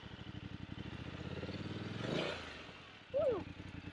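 A motorcycle engine putters with a steady rapid beat, rises briefly as throttle is added, then settles back to a low rhythmic idle; a voice speaks over it during the rise.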